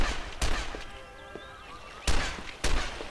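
Gunshots ring out in the video game The Ship, four sharp, loud blasts spaced unevenly, with a faint electronic whine and echoing tail between them.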